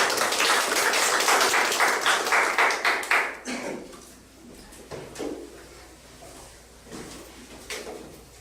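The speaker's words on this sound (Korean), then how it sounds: "우리 지혜 특허법률사무소의 심충섭 변호사님 박수로 모시겠습니다" An audience at a startup networking forum applauds to welcome a patent law attorney to the stage. The clapping is full and loud for about three seconds, then thins to scattered single claps and dies away.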